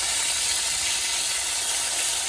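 Bhola fish fries in a pan beside a simmering papaya and potato curry, giving a constant soft, even hiss of hot oil, close and unbroken, with no voices.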